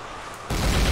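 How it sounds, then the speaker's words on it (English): An explosion attack in Garry's Mod, heard as a sudden loud broadband boom that starts halfway through and stays dense and roaring to the end. "if that's the explosion attack"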